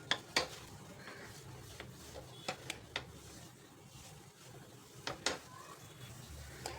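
A utensil stirs and scrapes a milk powder mixture in a pan, with sharp metallic clinks at irregular intervals over a low background hiss, fairly faint and with no talking.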